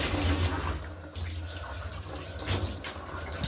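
Water runs steadily from a tap into a sink as hair is washed, a continuous close splashing wash with small surges and no talk.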